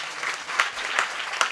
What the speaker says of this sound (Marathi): त्यांच्याकरता एकदा जोरदार टाळी